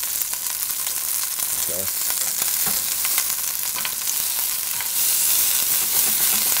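Meat, a tough round eye roast cut, sears in a hot pan with a steady close sizzle and occasional scraping as it is moved, while a voice speaks briefly.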